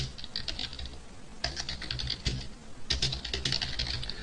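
Rapid clicking on a computer keyboard while writing Java game code, three bursts of quick keystrokes separated by short pauses, close and crisp, with no talking.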